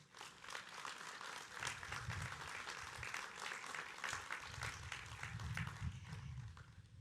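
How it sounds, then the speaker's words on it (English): Audience applause at a flood-diversion groundbreaking ceremony, a steady wash of many hands clapping from a crowd outdoors, sustained for several seconds at moderate, somewhat distant level. "Let's give these folks a round of applause for their steadfast leadership and dedication to the region."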